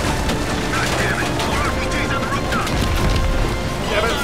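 Rapid gunfire and booming blasts in the Call of Duty Black Ops Cold War game, a dense, loud, continuous battle din with shouted voices mixed over it.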